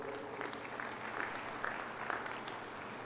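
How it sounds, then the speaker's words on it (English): Audience at a Dine College fall commencement in Tsaile, Arizona applauds for graduates' families, a steady wash of clapping from a large indoor crowd, even and continuous with no voices over it. "Let's give all of them a big round of applause"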